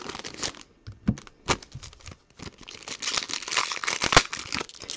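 Foil wrappers on trading card packs crinkle and tear near the microphone in irregular bursts as the packs are opened one after another.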